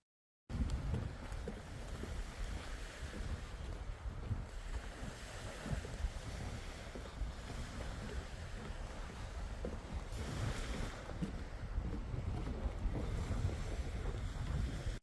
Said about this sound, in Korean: 바다와 가장 가까운 자리에서 파도 소리와 바람을